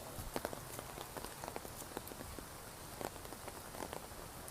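Rain falling on a surface on a dark, foggy evening in Hong Kong, a dense steady patter with scattered sharper drops tapping close by, no voices.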